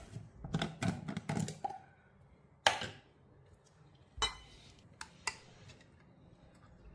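A jar of pickled onions, kept a day in the fridge, is opened: a cluster of sharp clinks and taps, then separate loud metallic clicks and knocks with quiet gaps between, close and clear, no talking.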